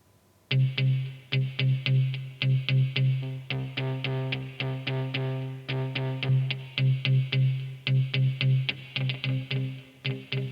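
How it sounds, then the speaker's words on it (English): Smart Guitar chords strummed in a steady, bouncy rhythm through an echo effect pedal, each short stab trailing a faint repeat, close and clear with no talking. "Nice little echo effect there."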